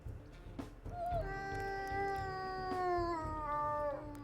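A wolf pup's strained, whining howl in the video game WolfQuest Anniversary Edition rises then sustains and wavers, sounding pained and almost cat-like, over a soft low rumble.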